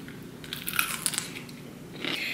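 Crisp bites into thick crunchy pickles, two or three sharp close crunches in quick succession, heard alone without talk.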